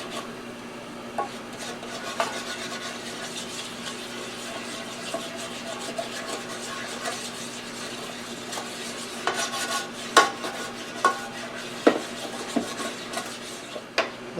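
Flour being stirred in a pan and toasted into a roux, a steady faint scraping and rubbing with light sizzle, a few louder utensil clicks toward the end, close and without talk.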